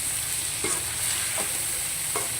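Okra frying in a pan with chilli and spices, a steady close sizzle broken by three scraping stirs of a spatula at even intervals, with no talking.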